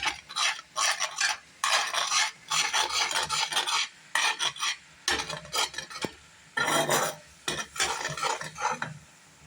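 Thick omam lehyam being stirred slowly in a pan over a simmer, repeated rasping scrapes of a spoon against the pan in uneven bursts with short pauses, close and clear.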